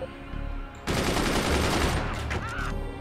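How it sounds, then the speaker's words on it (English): A machine gun in the video game Forts fires in a dense, loud burst at an explosive barrel, rapid shots running for about two seconds after a brief lead-in. "We should just fire this machine gun at this explosive barrel"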